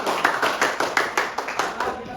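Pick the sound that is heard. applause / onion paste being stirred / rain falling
applause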